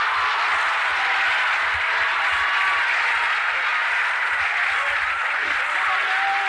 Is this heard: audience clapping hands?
yes